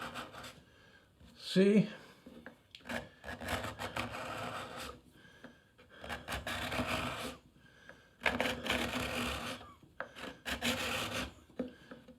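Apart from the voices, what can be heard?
card scraper rubbing over a wood surface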